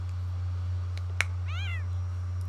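A single short cat meow from The Sims 4, clear and close, heard over a steady low hum, with a brief click just before it and no voices.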